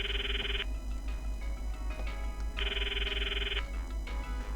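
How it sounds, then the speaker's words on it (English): A cell phone in a video game office rings with a steady electronic ringtone, two sustained bursts separated by a short pause over a constant low hum, with no talk. "Her ringtone! Following the sound, we scour the office for its source."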